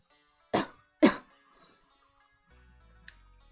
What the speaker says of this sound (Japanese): どの向こうからかすかに 咳をする声が聞こえ てくる。